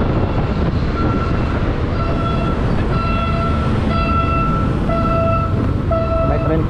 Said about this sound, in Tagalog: May tren pa ata.